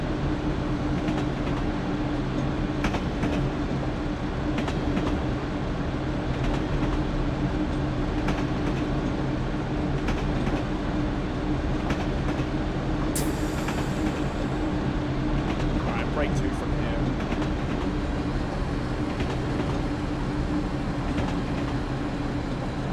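A train runs along the North London and Goblin lines in Train Simulator, a steady, loud rumble and drone with faint rail clicks throughout and one brief sharp hiss midway, with no talk.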